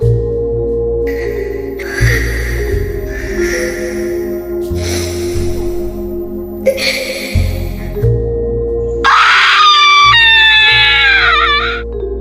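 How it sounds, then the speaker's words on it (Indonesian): A woman's high, shrill scream from a haunted-house horror story, loud and sustained for about three seconds near the end, following a series of harsh broadband bursts over a steady low drone. "Rani menjerit"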